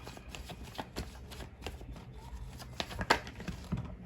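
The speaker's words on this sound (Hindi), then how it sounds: "चलिए कुछ और कार्ड्स ले लेते हैं।" Tarot cards are shuffled and drawn by hand close up, giving soft papery riffles and flicks in quick irregular bursts at low volume.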